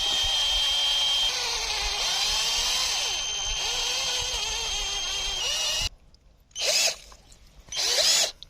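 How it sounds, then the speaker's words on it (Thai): A power drill bores into PE plastic water pipe, a loud steady whine for about six seconds that cuts off, then two shorter bursts of drilling follow. "เจาะไปเรื่อย"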